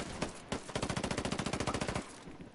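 Sustained rapid automatic gunfire from the PS4 video game Ghost Recon Wildlands, a dense loud burst of evenly spaced shots lasting about two seconds over a noisy in-game background, with no talking.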